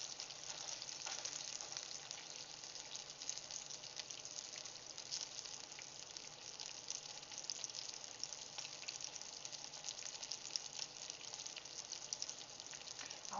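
Sausages frying in a pan for a weekend family breakfast, a steady faint crackling sizzle with small pops, continuous and unbroken, no voices.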